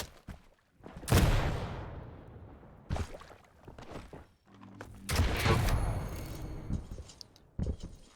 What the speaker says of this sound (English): You go for the rocket jump here